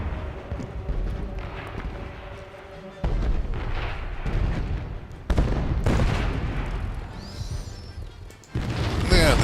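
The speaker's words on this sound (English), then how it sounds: "Our landing craft are shooting at him." Anti-aircraft guns on landing craft fire in an air combat game, with loud bursts of flak and booming shots arriving in several separate blasts over a continuous roar.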